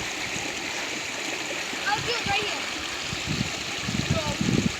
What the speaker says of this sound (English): Creek rapid rafting.